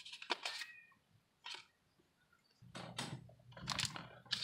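A bored indoor pet cat lets out a few short meows and a drawn-out caterwaul close by, separated by quiet gaps, with light keyboard-like clicks and a low hum underneath.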